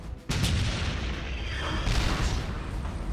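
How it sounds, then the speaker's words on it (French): A shell explodes against a First World War tank in battle: a sudden loud blast after a brief lull, then a sustained deep rumble that keeps rolling with a second surge. "J'ai entendu une énorme explosion et j'ai vu une de nos chenilles s'envoler."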